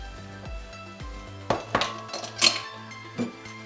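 Metal measuring spoons clink lightly while a teaspoon of salt is measured for focaccia dough in a home kitchen: a few scattered bright taps and clatters over steady background music.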